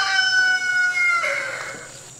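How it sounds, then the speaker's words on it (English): A Buckeye rooster crows once nearby, a long sustained call that holds steady and then breaks into a ragged drawn-out ending. "There's the Buckeye Rooster."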